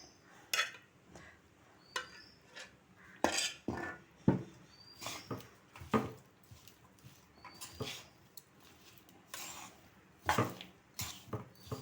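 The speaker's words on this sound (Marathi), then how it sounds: "मी ही फोडणी घालून हे सगळं लोणचं व्यवस्थित मिक्स करून घेते" A spoon stirs chili pickle in a bowl after a hot mustard-oil tempering with fenugreek powder and asafoetida is poured in, giving repeated close clinks and scrapes in an irregular rhythm, with a dog whimpering at times in the background.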